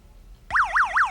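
A battery-powered buzzer in a simple switch circuit comes on abruptly and sounds loud and close with a wavering, siren-like warble that repeats about three times.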